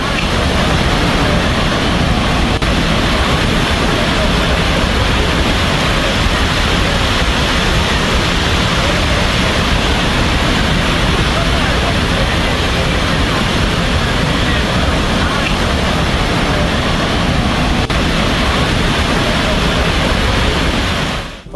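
Flash flood water in Nepal rushing past in a dense, unbroken roar, loud and constant with no pauses for the whole stretch.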